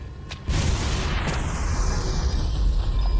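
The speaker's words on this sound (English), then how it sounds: "There's an explosion, I don't want to look back." An explosion in the video game Bioshock arrives as a sudden loud boom that swells into a sustained, dense, roaring rumble lasting several seconds.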